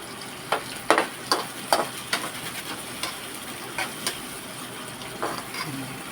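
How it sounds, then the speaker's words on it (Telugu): Oil sizzles and crackles steadily with sharp pops and spatters at irregular intervals, onions and green chillies frying in a hot pan close by. "నూనెలో ఉల్లిగడ్డలు పచ్చిమిర్చి చిట్టపట్టలాడుతుంది"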